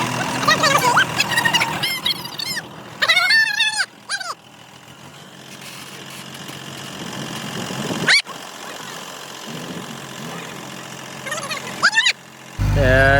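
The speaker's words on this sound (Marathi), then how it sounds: "तर मित्रांनो अशा ठिकाणी आता मशीन आलेलं आहे बघा आपलं JCB" A JCB backhoe loader runs at a farm, loading chopped silage fodder. Its steady mid-pitched engine rumble continues throughout, with intermittent higher cries and brief sharp bursts over it, and voices heard at times.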